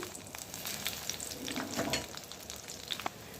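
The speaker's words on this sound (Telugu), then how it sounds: "తాలింపు వేస్తున్నాను" Spices tempering in hot oil for coconut rice sizzle and crackle steadily, close up, with little pops and spits scattered throughout and no talking.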